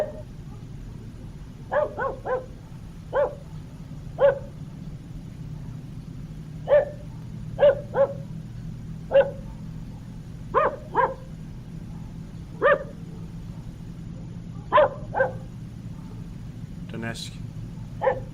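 Dogs in Donetsk bark repeatedly in short, scattered bursts at moderate distance, some as quick doubles or triples, over a steady low rumble outdoors.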